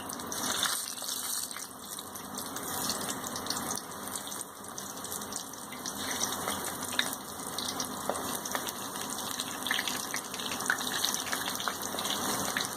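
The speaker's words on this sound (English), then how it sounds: "For this we'll place these stuffed tindas in oil one by one" Stuffed tindas fry in hot oil, a continuous rushing bubbling hiss with faint crackles, steady and moderately close, no voices.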